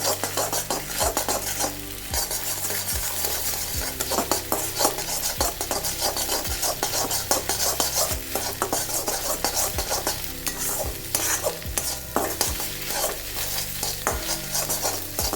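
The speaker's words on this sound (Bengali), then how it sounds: "এভাবে নাড়িয়ে ভেজে নেব। ডিমটা ভেজে তুলে নিয়ে" Continuous sizzling in a pan with repeated scraping and clinking of a utensil as duck egg is stirred and fried, close and steady.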